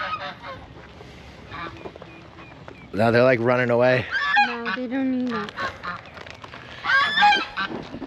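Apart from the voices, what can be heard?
geese honking while being fed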